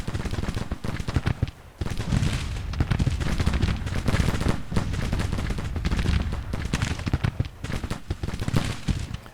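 Dense, continuous musket and rifle volleys from a Civil War battle in the strategy game Grand Tactician, with crackling shots and booming reports overlapping without pause, loud and close.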